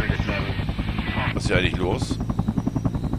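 Helicopter in the video game Helicopter Simulator: Search & Rescue, with a loud, steady rotor chop and turbine whine throughout, under someone speaking German.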